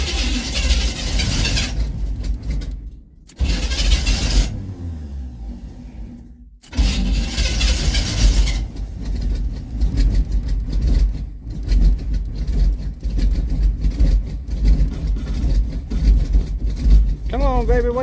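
Hot rod engine struggling through a cold start with the choke adjusted, loud rough cranking and sputtering running in uneven bursts with short gaps, heard up close.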